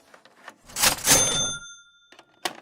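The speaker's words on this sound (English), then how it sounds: "Once the drawer popped open and that metallic ring hit the air, the transaction felt official." A 1970s cash register rings as its drawer pops open: a burst of mechanical clatter, then a bright metallic bell ring that hangs and fades, followed by a few light clicks.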